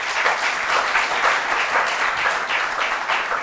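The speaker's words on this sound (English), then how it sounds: "A round of applause for them, please." Steady applause from a crowd, continuous clapping that fills the room at a fairly loud level with no break.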